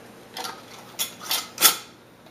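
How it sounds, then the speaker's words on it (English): Metal lid being placed and screwed onto a glass mason jar filled with milk, giving a few brief clinking clicks spaced over a couple of seconds, the last one loudest, against a quiet background hum. "I've filled up the mason jar. Put a lid on it,"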